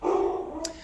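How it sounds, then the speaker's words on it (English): A pet dog gives a short single bark indoors at home, heard briefly and fairly loud with no other sound around it. "that's my dog barking in the background because I'm still working at home"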